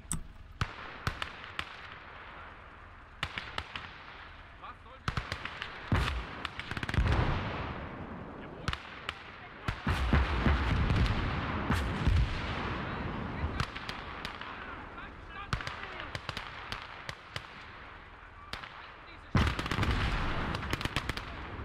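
Artillery and gunfire in the WWII strategy game Call to Arms: Gates of Hell, German conquest mode: repeated sharp blasts and crackling shots at an irregular rhythm over a continuous battle rumble, some bursts loud and close.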